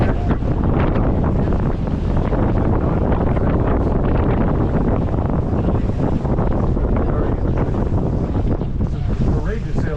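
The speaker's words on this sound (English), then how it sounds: "lead you all to the sights and sounds of the harbor" Sightseeing boat out on Boston Harbor on the Fourth of July, with steady, loud wind buffeting the microphone and rushing water along the hull, continuous throughout and no clear talk.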